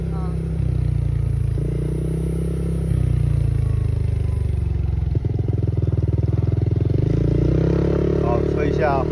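A motorcycle with a bright SL headlight ridden at night through a village in Kinmen, its engine a close, steady throb that rises in pitch as it pulls away, with voices talking over it.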